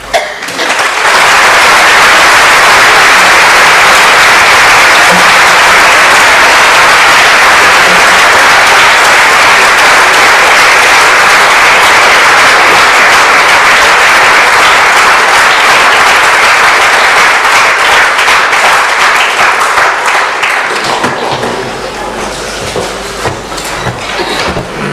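A large audience applauds loudly and continuously for about twenty seconds before the clapping thins out and fades.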